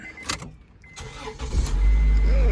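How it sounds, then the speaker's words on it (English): A 1999 Acura Integra engine cranks and catches after a few quiet clicks, then settles into a steady, loud low idle that fills the rest of the moment. "I'm going to go ahead and start the car up."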